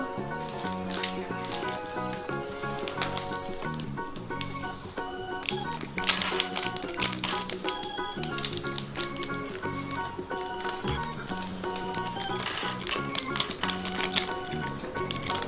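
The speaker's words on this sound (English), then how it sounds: "Now, let's put the gems inside the bowl." Small gems for a children's rainbow science experiment clatter into a bowl in a series of bright, quick clicks and taps, with two louder clusters of clinks standing out over a busy, close background.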